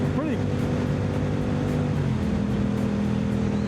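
A Yamaha R7 motorcycle engine idling and revving under the throttle, a steady droning hum with a quick rising and falling rev near the start, close by and moderately loud.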